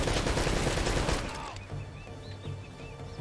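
Heavy turret gunfire in the video game Uncharted: Drake's Fortune, a dense loud burst for the first second and a half, then fading into quieter ambient game sounds with faint chirps.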